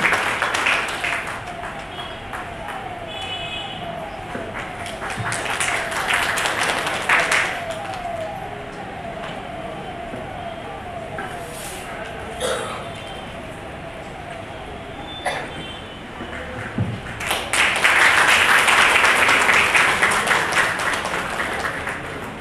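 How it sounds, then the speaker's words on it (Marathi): Audience at a Constitution Day ceremony applauding an honoree, a sustained crowd clapping wash filling the hall and swelling louder toward the end, with some voices mixed in. "एकदा जोरदार टाळ्या"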